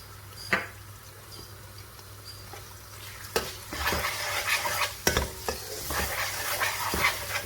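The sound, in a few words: onions frying with ginger garlic paste in pan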